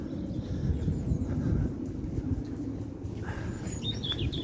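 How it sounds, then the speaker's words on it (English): Birds chirp and twitter faintly in a quiet countryside lane, a few brief calls standing out late over a steady low rumble that resembles a distant aircraft. "All you can hear is birds twittering."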